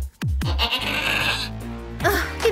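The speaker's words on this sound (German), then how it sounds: "die Ziege, knabbert auf ihrem Schuh herum" A goat in a German children's audio drama, gnawing on a shoe, bleats loudly and close by in a couple of wavering cries after some sharp knocks, with no speech.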